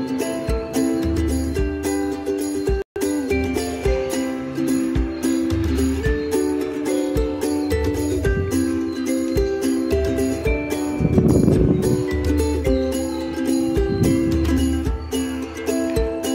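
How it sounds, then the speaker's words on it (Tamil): Usha Janome Wonder Stitch sewing machine stitching on a button, with a steady rapid mechanical clatter of the needle that runs throughout, close and fairly loud, with one brief break early on. "அதுக்கப்புறம் நம்மளோட பெடல் ஃபுட்டை யூஸ் பண்ணி நம்ம தையல் போட்டுக்கலாம்"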